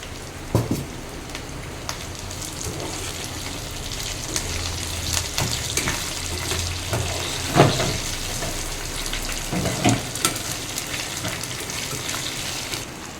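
Ripe green chillies hit a hot pan and fry for a coconut and moong dal chutney, a continuous crackling sizzle with scattered louder pops and scraping, close and without talk.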